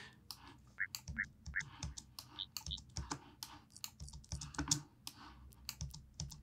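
Someone presses computer keyboard shortcut keys with soft, irregular clicks and taps close by. The clicks come in quick clusters over a very quiet background.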